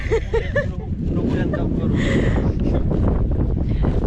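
Strong, cold wind over a field buffets the microphone throughout with a constant low roar, and a few faint voice-like sounds come through near the start.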